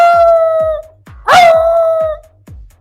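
A person vocally imitates a dog's howl, giving two long, wavering howls with a short break between them, performed without instruments over a steady, rhythmic low thumping.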